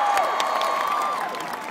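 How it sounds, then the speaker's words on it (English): A rally crowd in a Hollywood, Florida high school applauds and cheers for former governor Charlie Crist, a continuous wash of clapping with a high whistle or shout rising above it. "Give him a big round of applause"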